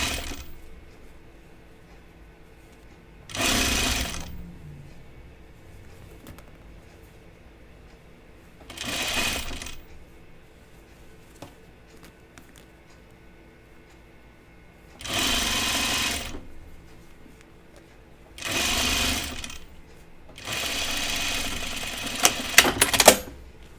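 Sewing machine stitching a shoulder seam in short separate bursts of rapid clatter, close and fairly loud, with quiet gaps between runs.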